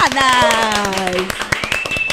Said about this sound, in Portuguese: uma salva de palmas para minhas convidadas!